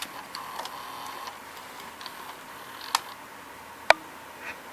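A Sony EV-C200 Hi8 VCR's tape mechanism swinging up, heard as faint small mechanical clicks and ticks over quiet hum, with two sharper clicks near the end.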